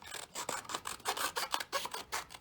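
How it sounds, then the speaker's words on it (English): Scissors cut through paper along printed lines, a steady series of crisp snips and rasping slices repeating about every quarter second, close and clear with no talking. "So you want to get some scissors and then you want to cut along the lines."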